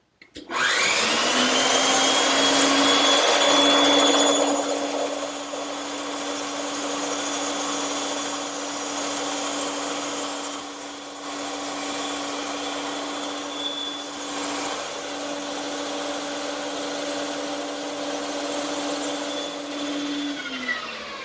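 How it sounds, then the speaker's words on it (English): A bandsaw whines steadily at close range with a high, constant tone as it cuts freehand through wood. The pitch shifts slightly over its twenty-second run. "this is where the bandsaw really comes in handy. And I'll just freehand it through."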